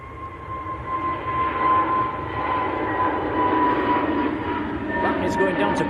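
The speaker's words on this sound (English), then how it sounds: "EasyJet getting airborne" An EasyJet airliner takes off at Manchester Airport with a steady, loud engine roar and whine held throughout, with voices talking nearby over it.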